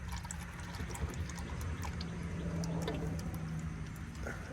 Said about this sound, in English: this hydraulic fluid's still draining out